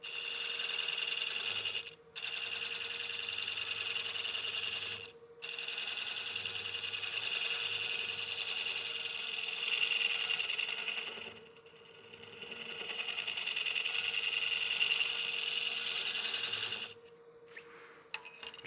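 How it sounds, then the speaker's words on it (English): A scraper makes light cuts on a partially seasoned wood bowl spinning on a lathe, giving a steady high whirring scrape that stops briefly in several places before resuming, close and fairly quiet. "just use my scraper. And just do really light cuts."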